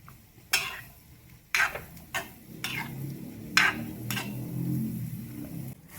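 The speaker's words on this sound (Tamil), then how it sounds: "வேக வச்ச பருப்பை சேர்த்துக்கலாம். எல்லாத்தையும் நல்லா கலந்து கொடுத்துக்கலாம்." Grated coconut and cooked lentils stirred together in a pan for Kerala erissery, with several sharp scraping strokes of a spoon over a soft steady sizzle, close and fairly quiet.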